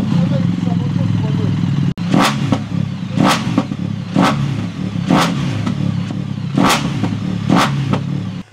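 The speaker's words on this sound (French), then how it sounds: "On va démarrer la moto." A motorcycle engine catches and idles roughly, then is revved in a series of sharp bursts, loud and close.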